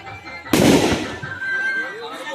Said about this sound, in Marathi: आता फटाके फोडतात सर्व